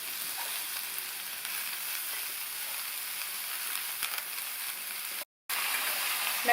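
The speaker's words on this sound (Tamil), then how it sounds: "கட் பண்ணி வச்ச கோஸை இதில் சேர்த்து வதக்கிக்கலாம்." Chopped cabbage sizzles and fries steadily in hot oil tempered with fennel seeds, a continuous close sizzle with a brief silent break near the end.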